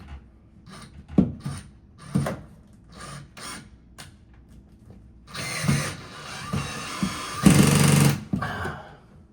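A power drill whirs in short bursts, then runs in longer, louder stretches driving stainless steel screws into the top edge of a MAAX Cyrene corner shower kit, with clicks and handling noise between.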